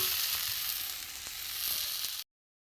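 A dry spice filling for egg yolk balls sizzles and fries in a pan, with a steady loud hiss and faint stirring scrapes, then it cuts off abruptly.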